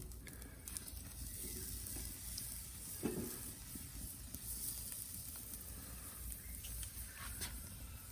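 Sirloin and ribeye steaks sizzle steadily in a hot pan right after being flipped, a faint continuous hiss and crackle with a soft clink about midway, with no talking.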